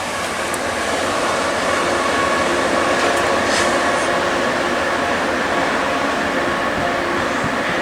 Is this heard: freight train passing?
yes